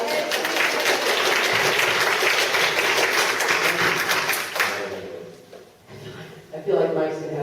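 Applause fills a Board of Education meeting room, a steady dense patter that fades out midway, followed by murmuring and faint voices.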